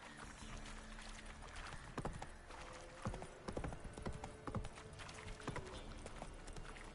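Hooves of Roach, a video game horse, clip-clop in a fast galloping rhythm, close and steady over a low ambient bed, with a brief whinny-like sound mixed in; no talking.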